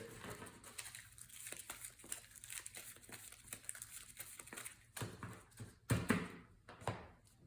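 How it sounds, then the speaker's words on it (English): A card game's encounter deck riffled and shuffled close by in quick, uneven crinkly bursts, quiet, with no talking. "Let's shuffle up the encounter deck here."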